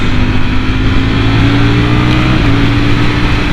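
A Streetfighter motorcycle engine pulls hard and steady while overtaking slower traffic, a loud, continuous mid-pitched drone with a slight rise in revs and no voices.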